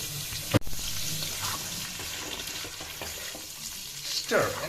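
Chopped onion is stirred into pork frying without oil in a pan, making a continuous close sizzle with scraping stir strokes, a sharp knock near the start and a louder swell of scraping at the end.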